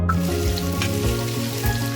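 Tilapia fish frying in oil in a pan over a low flame, a steady close crackling sizzle with no talk over it.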